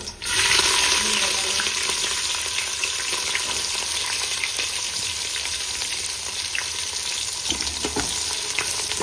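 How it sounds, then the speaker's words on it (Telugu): Green chilies drop into hot oil for a gongura mutton curry, setting off a loud, steady frying sizzle that fills the whole stretch close up, with no voices over it. "ఆయిల్ హీట్ అయ్యాక ఇదండి ఇవన్నీ వేసుకోవాలి పచ్చిమిరపకాయలు"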